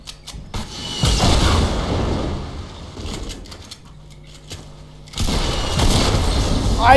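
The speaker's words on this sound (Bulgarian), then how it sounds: "Аз го стрелям." Bursts of gunfire and booms ring out in a video game. There is one loud stretch early, a quieter lull, then a second heavy burst near the end.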